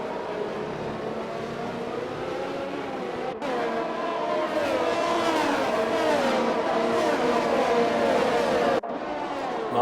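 Several race cars in a sim racing game accelerate together at a safety car restart at the Netherlands round, engines revving hard and close in a dense continuous roar, with a brief dip partway through and faint tyre squeal.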